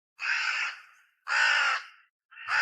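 A crow caws three times, each loud, harsh call lasting about half a second, separated by short pauses of silence.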